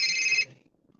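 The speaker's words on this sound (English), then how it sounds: "Oh, I got a phone call." A phone rings with an incoming call, one short bright electronic trill that cuts off abruptly, leaving faint background rumble.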